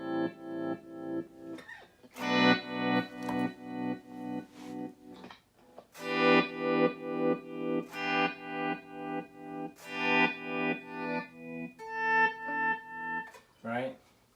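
Guitar chords through an Electro-Harmonix Attack Decay pedal, each strum swelling in and cutting off in a steady pulsing tremolo-like rhythm, close and clear with a brief pause midway.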